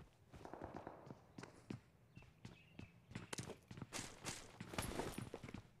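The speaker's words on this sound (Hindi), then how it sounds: "भाई यहाँ पे आसपास पैरों की आवाज़ आ रही है" Footsteps in the battle royale game BGMI patter nearby in an irregular run of quick close thuds and scuffs, moderately faint, with no talk over them.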